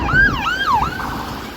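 A wailing two-tone emergency vehicle siren sweeps up and down as it passes on the road nearby, loud and alone over low traffic rumble.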